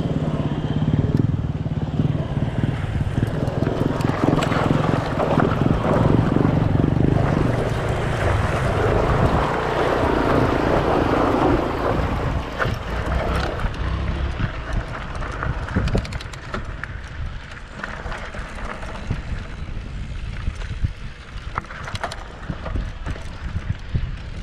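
Strong wind buffeting the microphone on a mountain ridge along a roadside, a loud continuous roar with rumbling gusts that ease off slightly toward the end, no voices.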